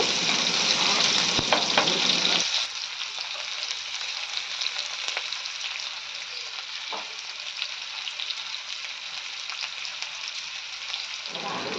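Onion frying in oil left over from frying fish, a steady loud sizzle with a brief stirring scrape near the start, then a continuous hiss with occasional clinks of the spoon.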